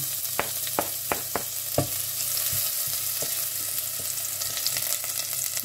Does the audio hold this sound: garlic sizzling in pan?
yes